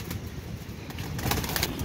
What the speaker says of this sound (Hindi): फुलसरा कबूतर है, ये भी टेंगरू कबूतर है